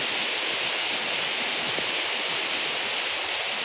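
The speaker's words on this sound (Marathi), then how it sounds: "तर पाऊस बघा काय पडता तो." Heavy monsoon rain pours outside a Konkan village house, a constant dense hiss with no breaks from start to finish.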